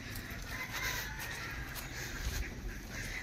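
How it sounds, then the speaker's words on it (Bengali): Ducks in a bird park give hoarse, chicken-like calls, several faint repeated squawks over a steady outdoor background. "হাঁসের তো মাঝখানে একটা মুরগির মতো আওয়াজও পেলাম"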